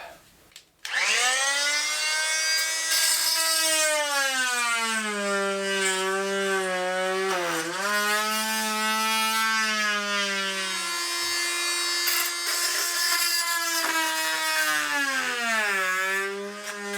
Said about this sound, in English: I've got this multi-tool that can do plunge cuts. But my blade's a little dull